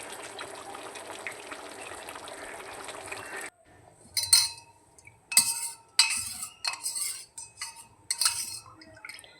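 Spoonfuls of rose water and kewra water are added while making Kolkata-style biryani. After a steady background hiss, a series of short, close splashes and spoon clinks follow one after another, fairly quiet.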